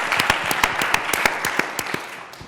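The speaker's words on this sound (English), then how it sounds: "You guys can clap." A small audience at a talk on lynching plays applauds briefly with sparse, distinct hand claps that taper off after a couple of seconds.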